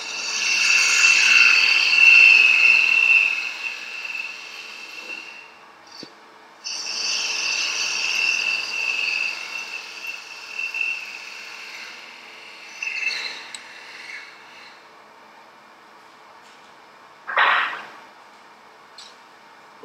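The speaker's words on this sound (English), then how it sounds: "Start the lathe up." Metal lathe running while an acorn nut is threaded and scraped, a steady whirring with bright cutting and rubbing tones, briefly stopping and restarting, with a short sharp scraping burst near the end.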